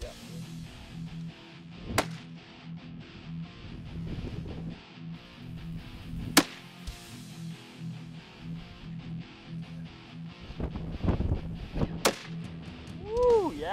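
Three sharp, loud rifle cracks ring out at a shooting range at roughly even intervals, each a sudden broadband burst that drops quickly, with quieter handling sounds and outdoor noise in between.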